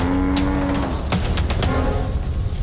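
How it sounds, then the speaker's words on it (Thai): A herd of wild cattle moo, with a drawn-out low call at the start and further lowing over a constant rumble of hooves and movement as they chase off a lion. "ฝูงวัวป่าไล่ต้อนเจ้าสิงโตจนหนีกระเจิงไป"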